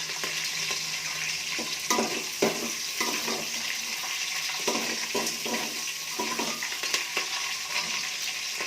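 Green chillies frying and being stirred in a pan over a high flame, a steady close sizzle broken by repeated scraping stir strokes, with no talk.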